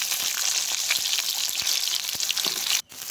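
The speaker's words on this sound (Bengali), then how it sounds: "তারপরে ওই তেলেই আলুটাকেও ভালোভাবে কষিয়ে নেব।" Potatoes fry steadily in hot oil for a vegetarian potato, pointed gourd and soybean curry, giving a loud, continuous sizzle that cuts off briefly near the end.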